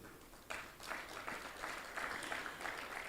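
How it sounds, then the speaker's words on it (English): An audience at a radio station and newspaper handover ceremony breaks into applause, a quiet, moderately sized round of clapping that starts abruptly and holds steady for about three seconds. "I think we need to give them a clap."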